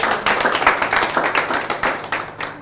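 Housemates on a teachers' reality show clap together after a runway presentation, a loose group of hands keeping up an uneven rhythm of sharp claps for a couple of seconds.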